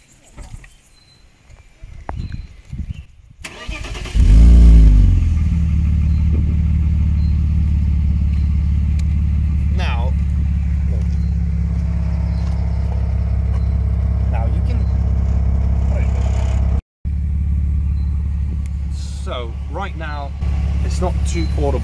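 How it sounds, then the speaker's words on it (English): A hot BMW E46 with the M54 straight-six cranks over and catches, then settles into a steady, loud idle with a rattling rear muffler, running on with only a brief break near the end. "So I'm going to do a cold start."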